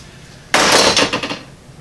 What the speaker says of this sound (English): I'm just tightening down the bolt now